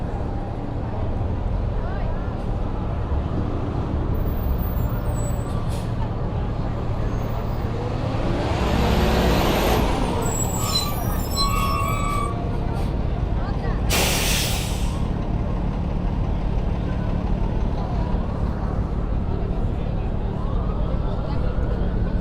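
Busy Times Square traffic in Midtown Manhattan on a Saturday night: a steady roadway rumble with passing engines and a sharp burst of bus air-brake hiss midway, with crowd voices mixed into the street noise.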